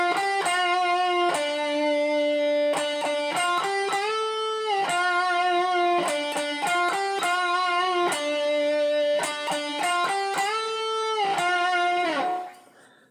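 Electric guitar with distortion plays the second verse riff of a song, a repeating sustained-note pattern with sliding pitch changes, loud and alone, fading out at the end.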